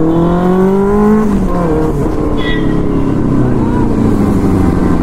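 A Benelli 600i motorcycle engine roars loud and close, its revving note dropping as it eases off, then settling into a heavy, rough rumble.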